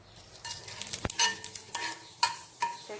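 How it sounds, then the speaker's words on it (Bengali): Dried red chillies and radhuni spices sputter in hot oil as a tempering for shukto dal, a busy crackling sizzle broken by several sharp pops and scraping stirs, close and fairly quiet. "ফোড়নে দিচ্ছি শুকনো লঙ্কা আর রাঁধুনি"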